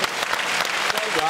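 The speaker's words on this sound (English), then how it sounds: "Round of applause." Brief burst of steady audience applause in a television studio, dense clapping at even volume for about a second.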